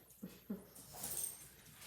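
A household pet dog whimpers softly in a few brief, faint whines, with quiet background noise between them.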